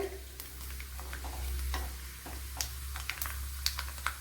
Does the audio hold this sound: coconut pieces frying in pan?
yes